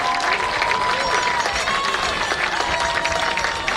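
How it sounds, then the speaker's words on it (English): At a middle school football game, an audience claps in a steady wash of applause mixed with crowd noise. A voice talks over it the whole time. "Let's give these young people a big round of applause"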